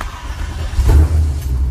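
A car on a test drive at a small eighth-mile drag strip swells into a deep, loud exhaust rumble as the engine revs, close and heavy.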